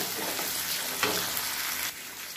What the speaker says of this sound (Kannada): ಟೊಮೊಟೊ ಹಾಕ್ತಾಯಿದ್ದೀನಿ. ಇದು ಚೆನ್ನಾಗಿ ಮಿಕ್ಸ್ ಮಾಡ್ಕೋಬೇಕು.